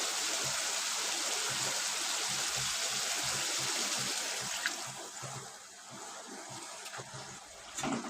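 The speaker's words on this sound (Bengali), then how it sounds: "এই যে আমি মাছ এবার দিয়ে দেবো, এবার সামান্য জল দিয়ে দেবো।" Water is poured into a fish and eggplant curry, a steady splashing gush that fills the first half, then thins to a quieter simmering trickle.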